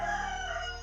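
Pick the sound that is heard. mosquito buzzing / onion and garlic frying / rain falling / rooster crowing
rooster crowing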